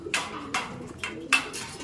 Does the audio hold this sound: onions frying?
no